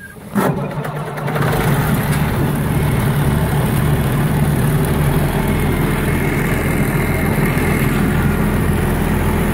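An Oliver tractor with a Hydra-Lectric hydraulic lift cranks and fires, then settles into a loud, steady idle close by with a deep, rumbling tone and no talk.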